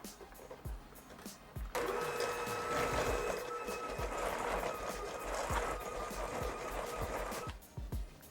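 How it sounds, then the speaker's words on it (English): Flour is mixed into vegan chocolate chip cookie dough, giving a steady, whirring churn for several seconds. It starts and stops abruptly, with soft clunks before and after. "I'm going to add about half of that right now, mix it in"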